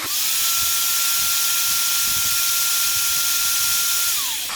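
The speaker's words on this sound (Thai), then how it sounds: "ผมจะกดสว่านกดสุดนะครับ" An electric drill whirs at a steady high pitch nearby, running continuously at full speed with a constant motor whine and faint rattling underneath.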